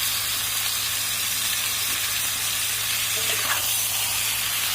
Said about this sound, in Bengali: সব কিছু একসঙ্গে ভালো করে মিশিয়ে একটু কষিয়ে নেব